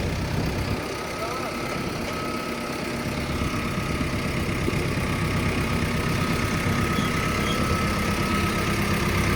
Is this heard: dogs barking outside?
no